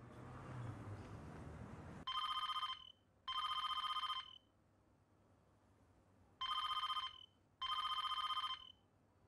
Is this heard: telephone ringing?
yes